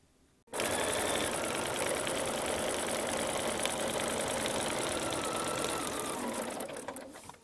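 A sewing machine runs steadily, stitching folded fabric strips over foam for a washable rainbow rug, starting abruptly after a brief pause and humming continuously at close range before slowing near the end.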